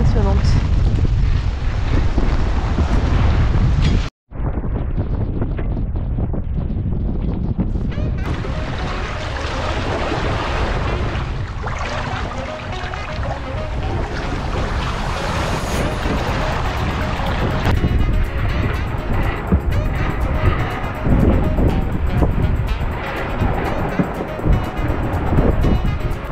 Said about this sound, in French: Le vent est encore une fois bien présent ce début de journée. Ça souffle.